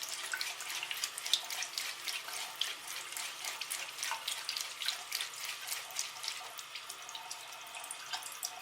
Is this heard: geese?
no